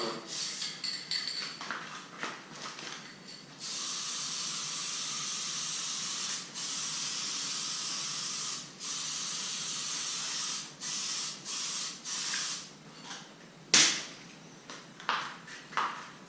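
Aerosol spray can laying down a second light coat of primer, a steady close hiss in long bursts with brief pauses, ending in short sputtering sprays and a click.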